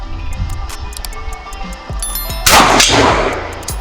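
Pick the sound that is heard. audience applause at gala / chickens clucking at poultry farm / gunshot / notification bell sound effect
gunshot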